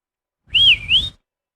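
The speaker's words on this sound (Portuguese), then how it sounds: "assobiou e atraiu Kamsa para vir lhe pegar." A single person whistles a short two-note phrase, each note sliding up and down, clear and close with no other sound around it.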